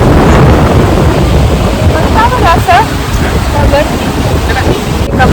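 Rushing river water babbles and roars loudly and continuously at close range, with strong wind buffeting mixed in and a few faint higher sounds partway through.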